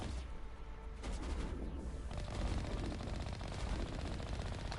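Rapid, steady machine-gun fire from the Mako vehicle's cannon in Mass Effect, shooting at pirates, a continuous stream of shots that grows denser partway through, heard fairly quietly.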